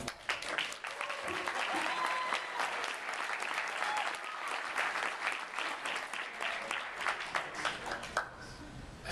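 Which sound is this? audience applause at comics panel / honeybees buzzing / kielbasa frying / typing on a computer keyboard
audience applause at comics panel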